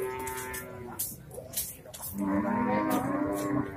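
Simmental sacrificial cattle moo twice, a shorter call followed by a longer, louder low moo, close by in a farm setting with faint background noise.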